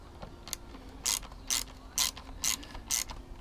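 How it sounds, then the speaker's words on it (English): Ratchet wrench slackening two 4mm Allen bolts on a Suzuki GSX-S1000 motorcycle screen mount, heard as five evenly spaced bursts of clicking ratchet pawl, close and fairly loud over quiet background. "there's two 4mm, and they just slacken off"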